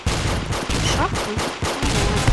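Dense, continuous gunfire from the Roblox shooter game Arsenal, with rapid overlapping shots in loud bursts separated by brief gaps.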